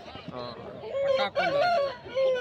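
An Aseel fighting rooster crows close by at a poultry market, one drawn-out, wavering call.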